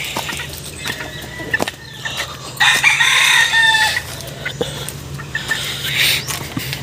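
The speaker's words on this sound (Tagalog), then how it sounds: "Ayan po yung bantam." Bantam chicken clucking and calling loudly close by, with bursts of sharp vocalizations among other fowl and no talk.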